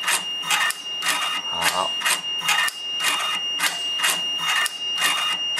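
Siruba BH790 sewing machine stitching through four layers of cloth, a close, rapid series of regular mechanical bursts in a steady rhythm with a constant high whine underneath, while a person speaks briefly.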